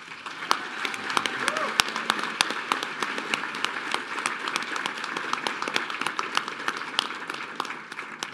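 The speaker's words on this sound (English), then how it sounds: "and that deserves a round of applause" A round of applause from an awards ceremony audience, steady dense clapping with sharp individual claps scattered through, a voice faintly audible beneath it.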